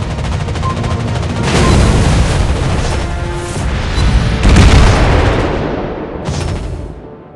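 Torpedo explosions in a World of Warships naval battle, a series of loud, close, heavy booms and rumbling blasts that swell and fade over several seconds.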